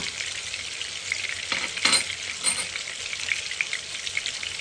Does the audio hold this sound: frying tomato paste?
yes